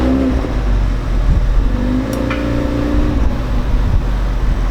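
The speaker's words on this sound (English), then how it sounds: "just to kind of get you an idea of how the tone of the car sounds" Ford Focus RS with an aftermarket catback exhaust, a steady low engine drone with a rising rev partway through, close and loud.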